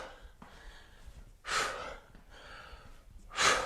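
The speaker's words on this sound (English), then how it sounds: "Give an exhale as you kick" Forceful exhales during a kickboxing-style fat-burn workout, two sharp breathy bursts each about half a second long, close and fairly loud over faint background movement.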